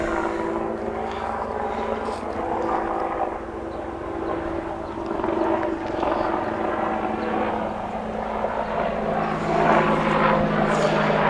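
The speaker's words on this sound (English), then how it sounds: "Sorry about the helicopter." A military helicopter passes overhead above a backyard beehive during a queen check, its steady rotor thrum and engine drone filling the scene loudly and continuously, rising slightly toward the end, with a person speaking underneath.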